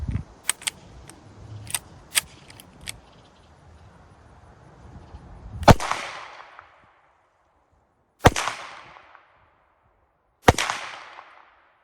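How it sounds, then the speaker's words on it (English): An unsuppressed SD9VE pistol firing regular supersonic rounds outdoors: three loud, sharp reports spaced a couple of seconds apart, each with a short ringing tail, after several lighter clicks and handling sounds. "Alright, so unsuppressed, regular supersonic rounds."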